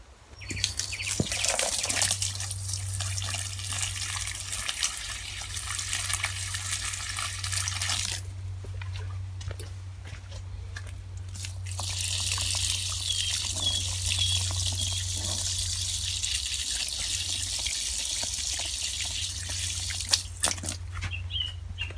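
Steady spray of water on garden plants, a continuous hiss that shifts in intensity, with occasional bird chirps in the distance.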